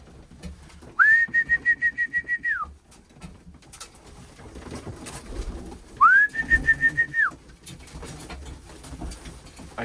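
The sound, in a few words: pigeons cooing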